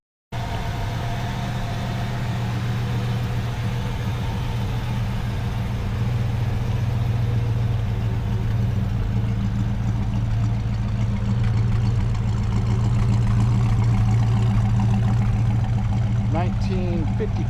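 A 1955 Chevrolet 210 with an LT1 Corvette engine and 4-speed idles steadily close by, a deep continuous rumble holding even and loud for the whole stretch.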